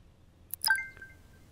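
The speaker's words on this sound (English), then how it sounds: "My phone dings again" A phone message notification chimes once, a short bright ding with a ringing tail, clear and close against near silence.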